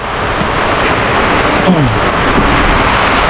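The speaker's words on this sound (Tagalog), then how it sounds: "Umuulan pa rin. Grabe na oh." Heavy rain pours down on barracks in a dense, loud, unbroken hiss, with a faint low rumble underneath, during flooding.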